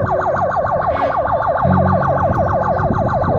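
A loud ambulance siren wails in a rapid, continuous up-and-down pattern close by on a highway blocked by a protest, with traffic rumbling underneath.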